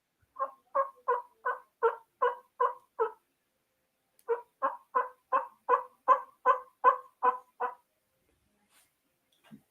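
Turkey mouth call used for hunting, imitating turkey yelps: two loud, close series of about eight evenly spaced raspy notes each, separated by a short pause, with no talking.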